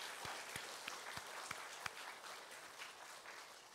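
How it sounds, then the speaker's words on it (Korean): A church congregation claps to welcome a newcomer: a handful of distinct, spaced claps rise over a soft, distant patter of applause that fades out, faint overall. "박수로 환영하겠습니다"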